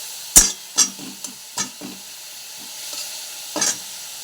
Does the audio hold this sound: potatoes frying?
yes